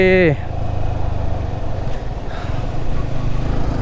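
A Yamaha R15 motorcycle engine runs rough while low on petrol, giving a steady, uneven low rumble close by that lasts throughout.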